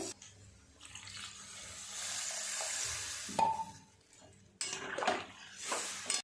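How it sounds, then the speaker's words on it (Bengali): Water poured into a pan of simmering vegetable and fresh fish curry, giving a sustained hissing splash that cuts off, followed by a clink and a second burst of pouring and bubbling. "জল দিয়ে দেবো, আরও কিছুটা জল দিতে হবে।"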